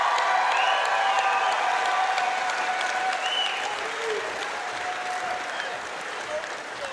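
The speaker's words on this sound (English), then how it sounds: "have you ever heard a crowd explode as much as they have for this young man?" A stadium crowd roars with sustained, loud cheering and applause for a 15-year-old champion at the 2022 Vegas Shoot championship shootdowns, a steady wash of clapping that eases slightly toward the end.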